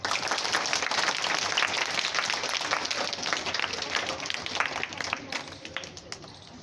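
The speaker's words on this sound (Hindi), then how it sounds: "तालियां बजाओ।" Students at a primary school courtyard in Gurugram clap together in dense, continuous applause that tapers off toward the end.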